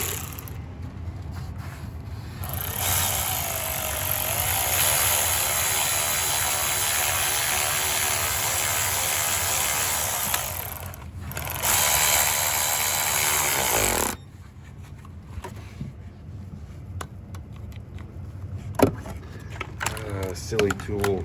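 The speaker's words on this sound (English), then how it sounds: "Time for some power tools." Cordless power tool working on an Audi 2.0T B8.5 engine during a water pump and intake manifold job, running in a long steady whir for about ten seconds with a brief pause, then clicks and clatter of handling.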